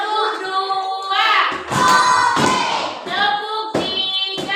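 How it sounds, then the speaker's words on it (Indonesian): Children in a first-grade Indonesian classroom clapping along in a counting clapping song, loud separate group claps in an uneven rhythm with a teacher's voice and sung counting over them. "kita nyanyi tepuk tangan dulu satu kali"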